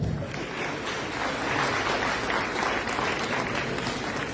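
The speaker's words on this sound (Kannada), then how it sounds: "ತಮ್ಮ ಚಪ್ಪಾಳೆ." A crowd applauds steadily, a dense wash of clapping that holds at an even level throughout.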